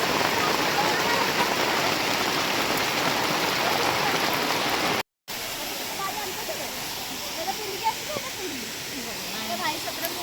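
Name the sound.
rain falling at Gundicha Ghagi waterfall, Kendujhar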